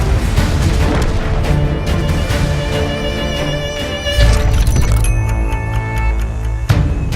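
Tank gunfire in the game World of Tanks from an autoloader, a dense barrage of loud booming shots and crashes layered over a droning engine and music, continuous and close.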